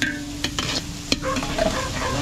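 Onions fry in butter in a pan while being stirred, a close sizzle punctuated by several sharp spatula scrapes and knocks at irregular intervals, with no talking over it.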